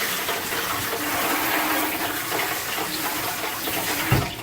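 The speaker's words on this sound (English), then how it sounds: "I'm going to give my hands a wash" Running tap water splashes steadily over hands being washed at a kitchen sink during fried chicken prep, a continuous close broadband rush with a brief bump near the end.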